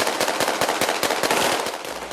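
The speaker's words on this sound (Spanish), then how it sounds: "Y lo confirma el sonido de las ametralladoras" Rapid machine gun fire in Tripoli crackles in dense, continuous bursts that sound close and loud, with sharp repeated reports and no voices.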